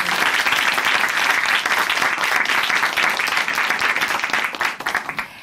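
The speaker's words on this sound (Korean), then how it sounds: "다시 한번 큰 박수 보내드릴게요" A church audience on a Korean Christian testimony program gives a big round of applause, dense and loud throughout, then thinning into a few scattered claps at the end.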